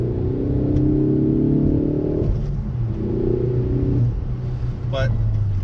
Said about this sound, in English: they do pipe in the noise from the engine bay, which I'll let you hear now.